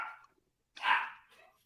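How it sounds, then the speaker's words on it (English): A dog barks once, a loud burst up close after a brief faint sound, then trails off into quieter noise, with no talking. "This fucking dog!"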